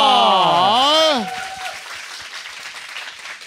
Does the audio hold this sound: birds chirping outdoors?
no